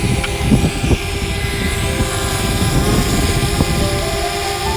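A DJI Spark drone flies over a riverside park and returns to land, its propellers making a loud, steady, high-pitched buzzing drone that is close and continuous throughout, with no voices.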